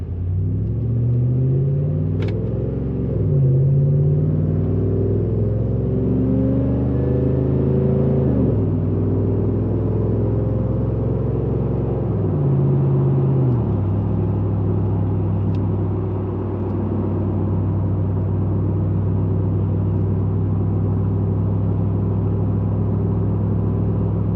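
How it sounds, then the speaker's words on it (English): A supercharged Roush F-150 pickup with Valvetronic universal mufflers, valves closed and windows shut, pulls away in a smooth cabin-heard acceleration: a deep, steady engine drone rising through several gear changes, then settling to an even cruise rumble. "it sounds like inside of the vehicle. I've got all the windows closed, and this is with the valves closed as well. We'll just take off normally."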